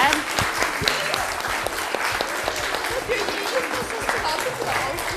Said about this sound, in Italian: Fatevi un applauso perché siete stati bravi anche voi